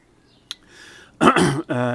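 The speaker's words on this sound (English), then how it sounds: "Excuse me, coughing, it's the fibre." A short click, then a harsh close-up cough or throat clearing from ceramic fibre dust during a kiln build, after which a voice begins to speak.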